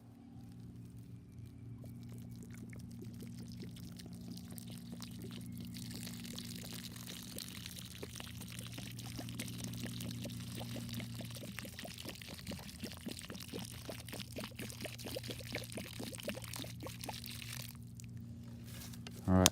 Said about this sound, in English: I've given it a whole water bottle full of water for now